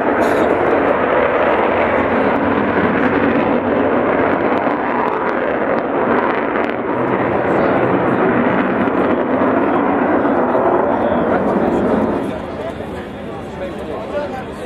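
Avro Vulcan bomber in flight: a loud, broad, rumbling jet roar that holds steady for most of the stretch before easing slightly near the end, with wind buffeting the microphone throughout.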